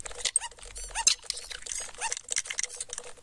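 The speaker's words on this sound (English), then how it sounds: "some of it sounds like a squeaky toy" Squeaky toy-like chirps and squeals played back from a phone recording, a rapid irregular run of high, thin squeaks with clicky patter between them.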